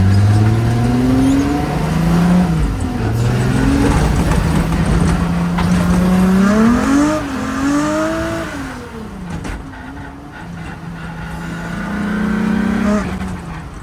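An MK1 VW Rabbit accelerates and drives, its engine note climbing through gears with rising and falling revs, loud and close throughout.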